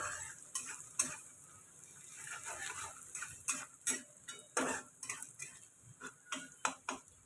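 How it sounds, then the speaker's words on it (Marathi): Onion sautéing in oil in a pan, a faint sizzle under repeated close scrapes and taps of a spoon stirring, spaced irregularly and growing busier toward the end. "तेलावर चांगला कांदा परतून घेऊया."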